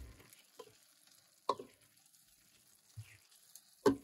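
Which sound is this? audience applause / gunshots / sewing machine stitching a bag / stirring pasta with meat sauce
stirring pasta with meat sauce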